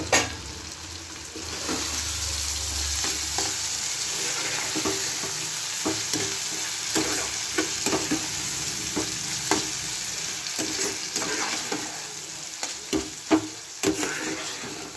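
Prawns fry and sizzle steadily in a pan for chilli prawn, with capsicum and a little sugar in the mix, while a spoon stirs and scrapes with irregular clicks and knocks over the constant crackle.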